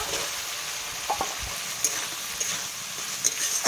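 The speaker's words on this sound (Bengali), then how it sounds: "টমাটোটাকে মশলার সাথে হালকা করে একটু ভেজে নেব" Chopped tomatoes frying with spice paste in a pan for a rohu fish and aubergine curry, an even close sizzle broken by a few scraping stirs and light clinks, with no talking.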